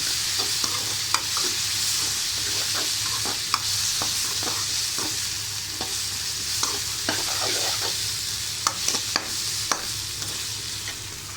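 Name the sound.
ginger garlic paste frying in pan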